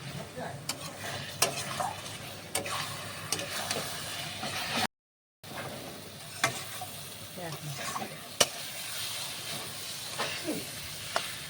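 Potatoes and spice paste frying with a little water for a vetki fish curry, a close, busy sizzle and hiss broken by repeated scraping and stirring clatters, with a brief silent gap midway.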